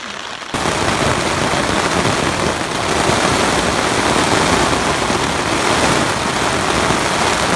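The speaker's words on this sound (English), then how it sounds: "And it's raining." Steady, dense rain drums on a tent on the Appalachian Trail near Thunder Hill Shelter, a loud continuous patter that starts abruptly and holds an even roar with no voices.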